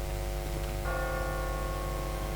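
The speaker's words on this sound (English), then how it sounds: "What kind of church bell goes off at 20 past the hour?" A church bell in a video game strikes once and rings out with a sustained metallic hum over a low, steady background rumble.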